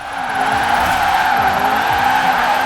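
A 1995 VW Corrado VR6 AWD drift build with 719 hp slides sideways in Forza Horizon 4, its tires squealing in a loud, steady screech over a droning engine for nearly three seconds.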